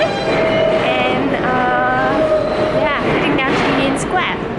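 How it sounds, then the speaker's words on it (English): Train ride toward Union Square: a steady rumble of rail cars with squealing wheel tones and rising electric whines, heard from inside, with people talking faintly under the noise. "I'm gonna get on a train"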